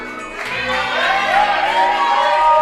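A crowd cheers and shouts continuously, with loud and dense voices that swell slightly, at a fruitcake eating contest.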